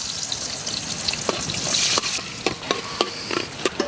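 Mustard seeds, pepper, cumin and onion sizzling in hot oil in a pan, a steady loud frying hiss with spattering pops and a few sharp crackles, close up and without voices.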